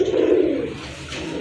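A single short, low coo from a male pigeon in a pair of chocolate grizzle pigeons, close and fairly clear, fading within about a second.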